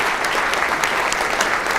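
Audience at a symposium's concluding session applauding the volunteers and staff, a steady dense wash of clapping filling the room without a break.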